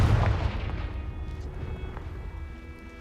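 In Hogwarts Legacy, a Confringo fire spell bursts with a heavy, booming blast right at the start, then its rumble trails off over a few seconds.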